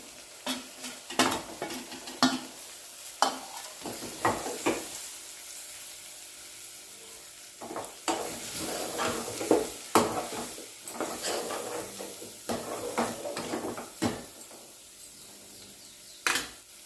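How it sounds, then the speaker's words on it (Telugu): Bitter gourd being stirred in a pan with salt, chili powder, coriander powder and cumin powder: steady sizzling under repeated sharp scrapes and clacks of a spoon against the pan, close and fairly loud, with no voices. "ఇప్పుడు ఇందులో ఉప్పు కారం ధనియాల పొడి జీలకర్ర పొడి వేసుకొని అంతా కలుపుకోవాలి"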